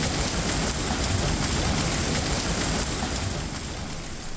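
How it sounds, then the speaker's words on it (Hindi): Heavy rain with hail pours down steadily across Lahore streets, a dense, unbroken roar of drops on surfaces that holds at constant strength throughout with no voices. "लाहौर के मुख्तलिफ इलाकों में मूसलाधार बारिश और जालाबारी हुई है"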